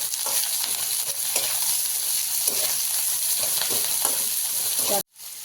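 Chopped green chilies frying in a pan, giving a steady loud sizzle with intermittent scraping as they are stirred, then cutting off abruptly near the end.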